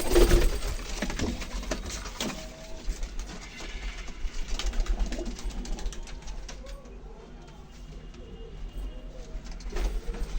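A single pigeon kept in a loft coos in low, soft bursts through a steady background of hum and rumble, with occasional talk and other bird calls nearby.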